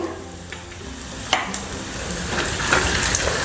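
Garlic, cumin and kalonji sizzle steadily in hot oil in a kadhai as a pinch of asafoetida goes in, with a brief clink of a spoon, the frying hiss growing a little louder toward the end.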